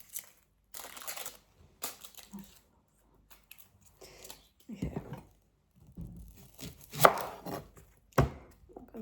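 Onions are chopped on a board with a knife in irregular bursts of crisp, close cuts separated by pauses, growing louder and denser toward the end.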